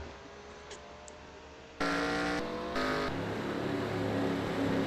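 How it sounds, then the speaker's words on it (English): Race cars pulling off pit road at Iowa at night in a stock-car racing video game, a low engine drone that swells abruptly into loud, steady revving with brief surges, no talk. "Other cars are currently leaving pit road."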